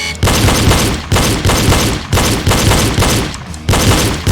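Pistol gunshots in a shooting drill, loud and close, fired in rapid dense volleys separated by short pauses.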